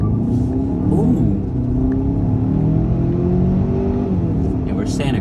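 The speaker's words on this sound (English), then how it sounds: "it definitely picks up pretty well for a 4-cylinder" A 2024 Hyundai Santa Cruz Night Edition with its 2.5-liter four-cylinder pulls away, engine note rising in a sustained rumbling climb heard from inside the cabin while people talk over it.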